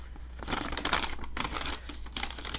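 A paper receipt being handled, close crinkling and rustling in a few short bursts, quiet and unaccompanied by speech.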